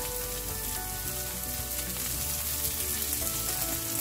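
Green beans stir-frying in a hot pan with chili and turmeric powders, a steady dense sizzle filling the clip from start to finish, close and fairly loud with no voices.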